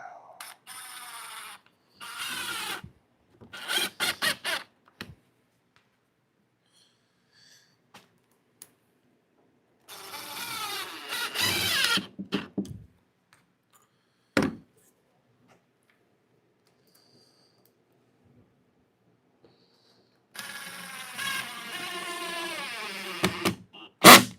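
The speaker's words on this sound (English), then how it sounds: "take our screws and screw that in" Power drill driving screws into a build project after brad nails hold the piece, heard as several short whirring bursts separated by silences, with a final strong burst at the end.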